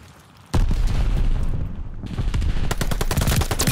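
Rapid gunfire in the video game Call of Duty: Vanguard, bursts of sharp, loud shots and booming reports after a quiet start, with a brief lull before another dense volley.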